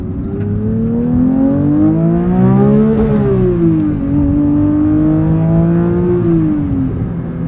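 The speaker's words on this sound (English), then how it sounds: "Pretty wicked rev limiter there too" Porsche 911 GT3 with a manual gearbox, its rear engine revving hard and rising in pitch, then holding near the rev limiter at close range, with no talk.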